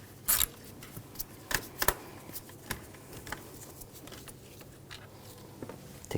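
Sparse metallic clicks and taps from loosening a bolt in the engine bay of a 2007-2013 BMW X5 3.0L inline-six, faint and close, with a few sharper knocks scattered unevenly.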